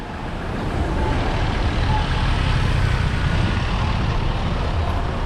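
Street traffic in Pattaya, Thailand, on Pattaya Klang and Soi 7 near the beach at sunset: a steady, dense roar of passing engines, with trucks and cars rumbling close by and no break in the flow.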